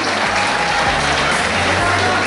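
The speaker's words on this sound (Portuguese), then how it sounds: "Pode aplaudir, gente." Audience at a live rock revival concert clapping loudly and continuously, a thick wash of applause with some crowd noise and a low amplified hum underneath.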